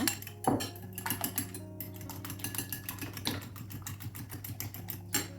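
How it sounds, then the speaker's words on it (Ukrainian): An egg is whisked in a bowl, a rapid, steady clatter of metal against the dish, fairly quiet and close. "Збиваємо яйце."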